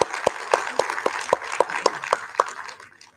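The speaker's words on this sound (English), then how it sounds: "Can I offer another round of applause for the panelists?" Sparse, evenly spaced claps, about a dozen distinct hits, sound in a quiet forum hall for the panelists and trail off after three seconds.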